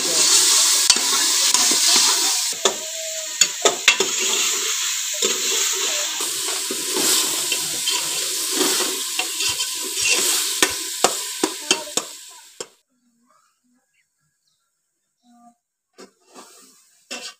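Minced meat (keema) sizzles and fries in a pan while being stirred, with repeated scraping clicks over a steady hiss for about twelve seconds before going almost silent, leaving a few faint knocks.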